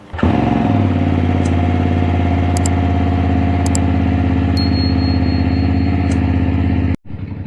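A BMW F850GS motorcycle engine runs steadily at idle, loud and close, with a constant low throb and a few faint high electronic beeps before it stops abruptly near the end.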